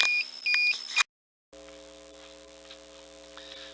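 A smoker thermometer's low-temperature alarm beeps in short high bursts, cuts to silence, then a steady electrical hum with faint beeps continues, beside an ugly drum smoker.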